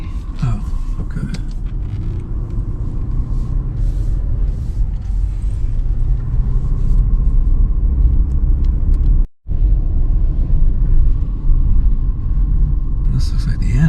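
A car drives through a small historic town in South Dakota, its engine and road rumble steady and close throughout, with a brief dropout midway and people talking over it.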